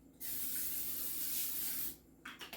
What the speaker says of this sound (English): I'm going to go ahead and lightly spray these with the cooking spray.